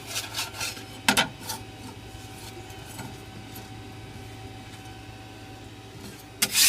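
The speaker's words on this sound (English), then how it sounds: "Give the bed a nice little scrape." Scraper rasping across the bed of a 3D printer, with a few sharp scrapes at the start, then a long stretch of faint steady rubbing over printer hum, and a louder scrape at the end. Close up, no talking.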